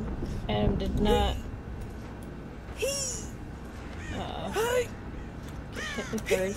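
Several harsh crow caws in the video game Dead by Daylight ring out in scattered bursts, some near and some farther off, over a low ambient hum.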